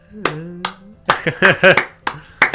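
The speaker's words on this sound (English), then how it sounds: "I'm the first one to start applauding." Sharp clapping sound effects from the video game Doki Doki Literature Club come in scattered bursts, some single and some in quick clusters, close and bright, overlapping a talking voice.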